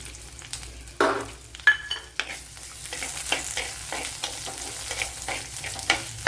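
Cumin seeds, green chillies, ginger and garlic fry in hot oil for a green mango curd curry, a close crackling sizzle with sharp pops as the pan is stirred, no voices.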